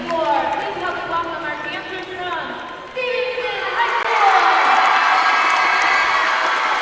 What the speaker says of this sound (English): Lots of fans right behind us with their light-up signs, cheering on their dancers.